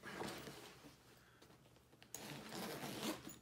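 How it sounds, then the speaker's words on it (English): A zipper on a Sprayground duffle bag rasps open in a couple of quick pulls close by, with soft handling noises between the strokes. "there's a little zipper there"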